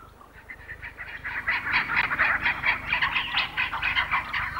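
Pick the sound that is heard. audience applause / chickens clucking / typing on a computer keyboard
chickens clucking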